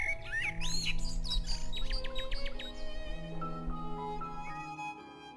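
Birds in a marsh chirp and twitter in quick rapid bursts over a soft layer of background music, fairly close and lively before fading toward the end.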